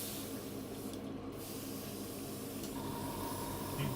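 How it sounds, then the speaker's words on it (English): An airbrush sprays out steadily to empty its leftover paint, a continuous close hiss of air and liquid that holds at even loudness with no pauses. "empty out my airbrush."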